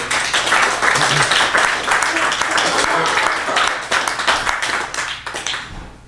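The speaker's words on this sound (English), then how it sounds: "a round of applause for Steve Lewandowski, our chef." A room full of people at an open mic event claps in sustained applause, loud and dense, tapering off toward the end.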